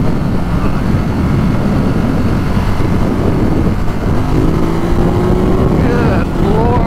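A Ducati Monster 1200 motorcycle engine roars loudly and continuously while riding, with wind rush throughout and a rising pitch sweep near the end as the engine revs change.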